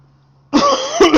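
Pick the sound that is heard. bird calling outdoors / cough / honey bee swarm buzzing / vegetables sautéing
cough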